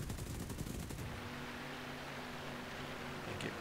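Machine guns of an XP-38G fighter aircraft firing in a combat flight game, a fast rattling burst for about a second that gives way to steady engine and wind noise.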